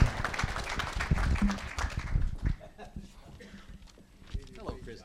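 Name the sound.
round of applause for Lydia at auctioneering class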